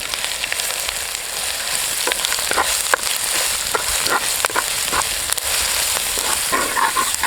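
Ginger and garlic paste frying in a pan with a steady close sizzle throughout, plus scattered light clicks from stirring; no voices.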